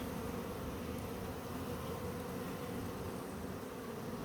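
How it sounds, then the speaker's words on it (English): Honeybees buzz on a lifted hive frame during a hive inspection, a soft, even drone that holds steady without pause. "Let's take a look too at the bees on here"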